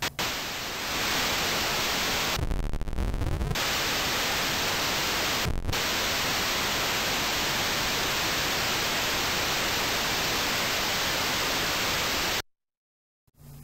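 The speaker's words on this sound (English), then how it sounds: "When the speed control setting is at the maximum, the random output generates white noise," White noise from the PHENOL LFO random output at maximum speed, a loud steady hiss broken by a couple of brief swept blips before stopping abruptly.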